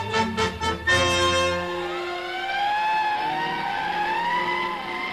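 Fire engines pull out during a Malibu wildfire in Latigo Canyon in a radio drama: a brief engine rumble, then a loud siren wailing in long rising and falling sweeps.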